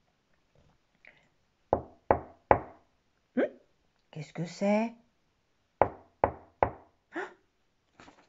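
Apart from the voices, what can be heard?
knocking on a door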